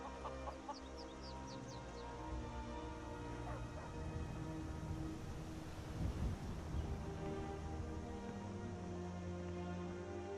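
A dog barks in the video game Skyrim, short yips set against a steady wash of game ambience and music, moderately loud and continuous throughout.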